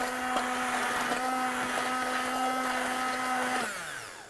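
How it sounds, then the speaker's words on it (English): A blender, likely a stick blender plunged into tomato sauce, whirs at a steady high-pitched drone for several seconds before spinning down at the end, close and alone. "just stick it in and give it a good old blend"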